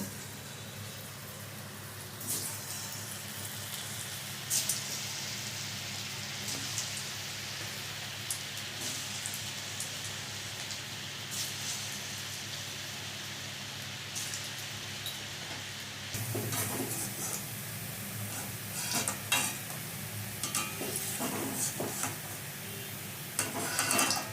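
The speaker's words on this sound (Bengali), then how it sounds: "এইভাবে বাকি কোপ্তাগুলো ভেজে নেব।" Young-jackfruit koftas sizzle and crackle steadily in hot oil for a long stretch, with occasional stirring scrapes and a louder burst of frying partway through.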